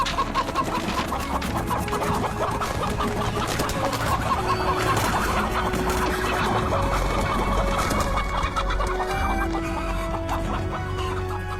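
A rooster called the Phoenix Chicken clucks repeatedly amid a busy, dense backdrop of other sounds, loud and steady throughout, with no talk.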